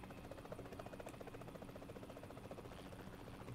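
A helicopter in PUBG Mobile drones steadily with a fast, even rotor chop, heard faint and constant from start to finish.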